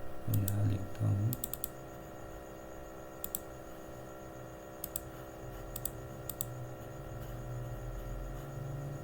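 A computer keyboard being typed on, a few brief clusters of quiet clicks over a steady low hum, with a voice near the start.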